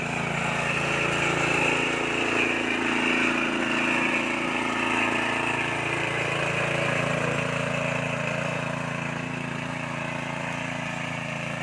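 Close by, a small hand-operated soil tiller engine runs in a steady mid-pitched drone, loud and continuous with no break.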